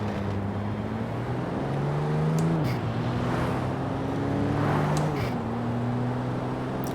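A Porsche 911 Turbo S cruising through city streets, heard from inside the cabin. A low engine drone runs throughout, broken by a few sharp, crackling exhaust pops.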